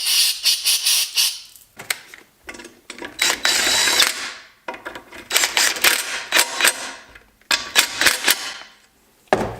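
A large ratchet wrench torques bolts on a turbocharged LS engine in a Mustang, giving rapid, loud ratcheting clicks in close bursts separated by short pauses.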